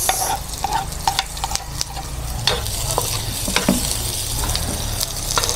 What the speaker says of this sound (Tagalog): Pagsabayan na natin yung bawang at sibuyas.